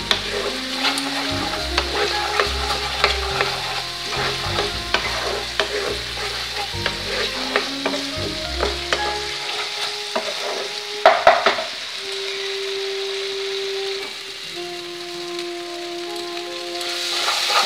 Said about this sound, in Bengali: আরও একটু কষিয়ে নাড়াচাড়া করবো আমি।